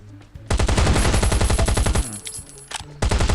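Automated turret fire in the survival game Last Island of Survival: a loud, fast machine-gun burst of evenly spaced shots lasting about a second and a half, then a brief pause before a shorter second burst.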